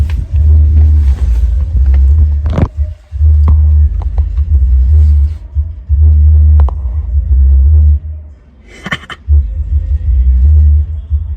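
Heavy bass thumps loudly from a car audio system inside the vehicle, deep pulsing booms in steady bursts with brief gaps, alone without talk.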